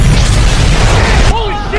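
A loud, sustained bomb explosion blast fills the first part, then cuts off abruptly into quieter sound with a voice.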